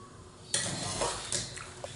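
Cooked rice for a Kerala-style chicken biryani is scooped out of a metal pot, giving a few clinks and scraping scoops close by, with no talking.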